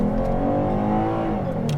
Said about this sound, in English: See, it shifts by itself.